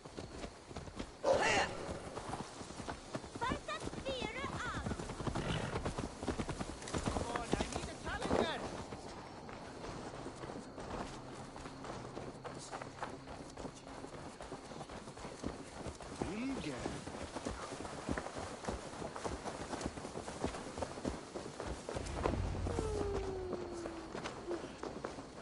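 Horse hooves clip-clopping in Assassin's Creed Valhalla, steady rhythmic hoofbeats with a neigh early on, mixed with game ambience.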